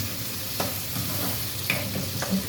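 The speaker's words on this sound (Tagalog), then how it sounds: "Ayan, nagisa na yung kamatis, bawang at sibuyas." Tomato, garlic and onion stir-frying in a pan for squid adobo, with a steady sizzle and a few soft scrapes and taps from the spatula at irregular intervals.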